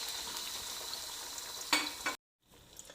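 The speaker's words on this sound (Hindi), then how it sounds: "इसी में हमने आमलेट बना लेना है, बिल्कुल इजी वे में।" Beaten eggs seasoned with salt and pepper sizzle steadily in a hot pan as an omelette, with a brief scrape midway before a short silence and a softer sizzle resuming.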